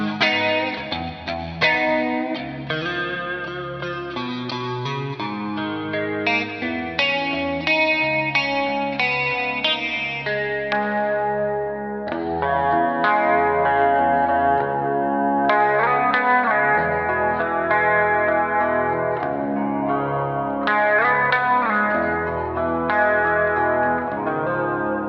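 Ernie Ball Music Man electric guitar on the middle pickup position plays a clean, lightly effected melodic line with chords and single notes, steady and moderately loud with no talking.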